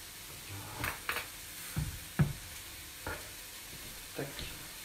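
Sausage and seaweed stuffing cooking in a pan, a quiet steady sizzle broken by several distinct scraping stirs of a utensil against the pan at irregular intervals, close up with no talking.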